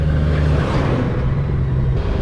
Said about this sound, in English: Lots of big trucks coming down this road today, wow.